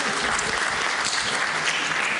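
Applause for a small group during a Christian doctrine class, steady close clapping from a modest audience filling the whole moment with no speech.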